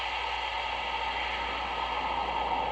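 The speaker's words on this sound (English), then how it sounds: "That's wind." Wind blows as an even, unbroken hiss at moderate volume from start to finish, with no other sounds.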